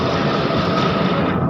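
A train departing Kamlapur station in Dhaka bound for Mohanganj, a steady loud rumble of wheels and cars rolling past close by, continuous and without talk.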